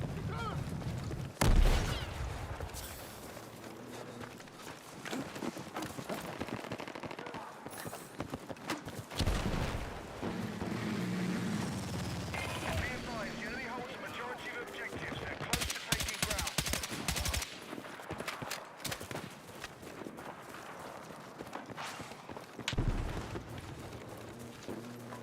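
Battlefield 6 combat crackles with bursts of rapid gunfire and sharp shots amid explosions and ambient noise, coming in clusters over a busy game soundscape, with a voice talking at times.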